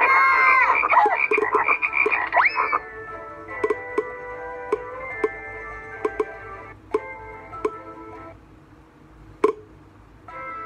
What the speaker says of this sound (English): Then he filled the Egyptian houses with frogs. Frogs were everywhere.